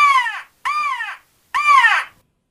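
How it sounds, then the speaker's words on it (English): A hunter's crow call, used to locate turkeys, gives three loud, close caws, each hoarse and drawn out, separated by short silent gaps. "let's just stop and try the crow call"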